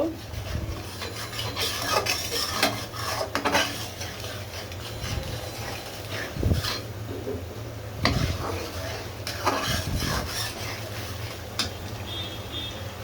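Spice paste for a river rohu fish curry is stirred and fried in a pan with oil, and a spoon scrapes and rasps against the metal in repeated strokes. The sizzle of frying runs steadily underneath, and a voice talks quietly in the background.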